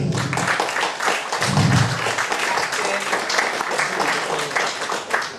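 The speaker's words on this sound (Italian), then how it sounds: "E a questo proposito vorrei che voi tributaste un grande applauso a Giorgio Ramiti." Audience applause at an international flat earth conference on the Amalfi Coast, a dense wash of clapping that fills the whole stretch, with voices mixed in underneath.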